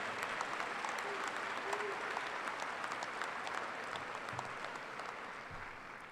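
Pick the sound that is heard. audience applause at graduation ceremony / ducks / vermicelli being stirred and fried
audience applause at graduation ceremony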